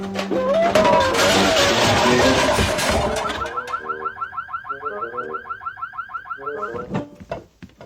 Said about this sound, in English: And that triggers an alarm signal.